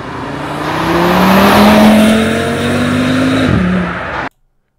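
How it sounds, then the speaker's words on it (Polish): Loud, close revving of a 2024 Cupra Formentor VZ5 with its 390 hp engine and sport exhaust, rising to a sustained howl, easing slightly, then cutting off abruptly. "jak oceniacie ten układ wydechowy"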